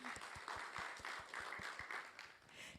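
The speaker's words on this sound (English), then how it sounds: "I believe it deserves a round of applause" Audience applause at an Asteroid Day festival, soft and distant, with a steady run of individual claps that stands out at a regular beat over the wash of the crowd.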